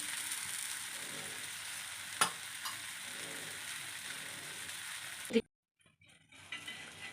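Banana dosa cooks in a pan over a low flame, a steady, faint sizzle with a couple of brief knocks, then it cuts out and returns softly.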